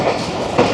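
A Shah Latif Express train rolling into a station on a ride through the Thar Desert toward Mirpurkhas, with steady rumbling wheel and carriage noise and a brief louder swell near the end, no voices.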